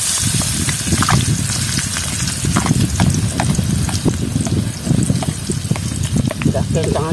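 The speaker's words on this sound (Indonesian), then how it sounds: "Kita goreng ikan bolado." Steady sizzling of fish frying in hot oil in a pan, with crackles and pops throughout and some faint background voices.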